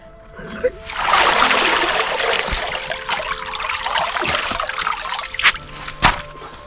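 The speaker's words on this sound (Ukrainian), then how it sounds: "Щоб вода трохи витекла." Water trickles and splashes out of a lifted pond plant pot as it drains, a close continuous dribble with a few louder splashes near the end.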